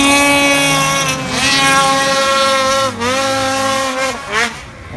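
A Summit 850 snowmobile engine revs hard during a wheelie in deep powder, a loud, sustained two-stroke whine that dips and surges in pitch, close to the microphone with wind buffeting.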